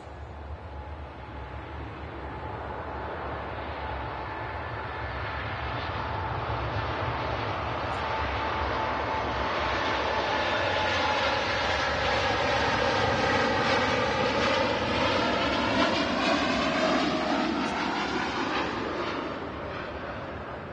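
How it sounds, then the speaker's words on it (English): Boeing 787-10 Dreamliner jet engines at Manchester Airport, a broad steady roar that swells over about twenty seconds with a rising and falling whine above it, loud and sustained as the airliner passes close by, with no talking. "Here goes the Etihad Dreamliner."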